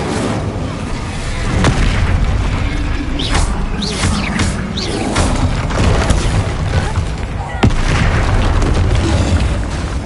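Spell explosions erupt in Hogwarts Legacy combat, with loud, dense booms and bursts layered over a constant rumbling battle din, plus sharp cracking hits near and far, while voices shout beneath.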